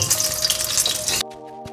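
Chicken frying in hot oil gives a dense, bright sizzle that cuts off abruptly partway through, leaving a quieter hum with faint clicks.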